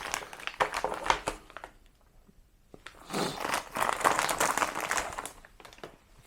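Packaging around a new MMI Sky Hunter 39mm wristwatch is crinkled and torn open, with bursts of rustling and crackling close by, a short quiet pause in the middle, then a longer stretch of handling noise.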